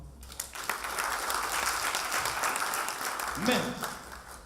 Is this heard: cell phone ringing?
no